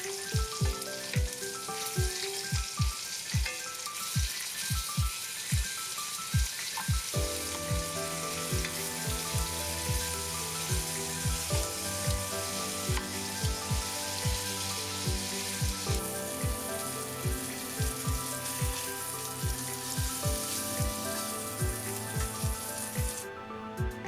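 Food sautés and browns in a hot pan with a steady, crackling sizzle, overlaid with rapid regular clicks or taps throughout and no talking.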